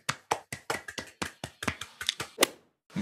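After a talk, hands clap in a sparse, steady series of about a dozen sharp, distinct claps over a few seconds, close by and loud, stopping briefly before one last clap.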